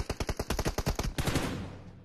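Rapid gunfire in a multiplayer shooter game's solo team deathmatch tournament, a fast burst of about a dozen sharp, evenly spaced shots followed by a denser, rolling volley that fades out, loud and close with no talk.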